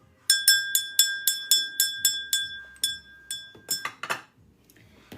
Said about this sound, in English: Let me ring my bell before I cut the cards.